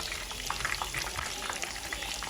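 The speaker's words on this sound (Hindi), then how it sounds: "चेस्ट वाली साइड से मैं इसे 8 मिनट फ्राई करूँगी और दरमियानी फ्लेम पर" Lahori chicken chargha frying over a medium flame, a steady dense crackle of hot oil with faint bubbling, fairly quiet and continuous.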